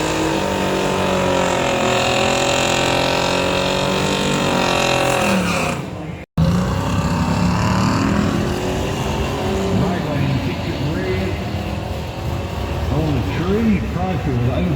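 A drag racing car fitted with a new roller cam setup roars steadily and loudly on a test pass, cuts out abruptly, then continues with rumbling, revving engine noise as an announcer talks over it.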